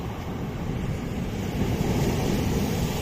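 Sea waves roll in and break on a shore, a broad rushing surge that swells louder toward the end. Wind buffets the microphone throughout and no one speaks.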